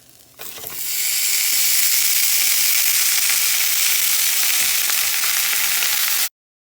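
Steak and chicken empanadas dropped into a hot pan, a sharp burst as they hit the oil, then a loud, steady sizzle and crackle of frying that runs until it cuts off abruptly.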